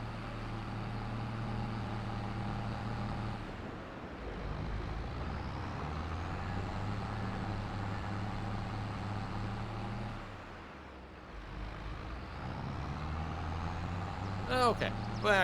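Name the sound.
car driving on road in Farming Simulator video game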